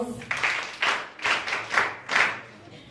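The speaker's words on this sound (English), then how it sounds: "Can we give them a round of applause?" Rhythmic clapping in about five steady pulses, somewhat muffled, like an audience applauding briefly at a school youth day event.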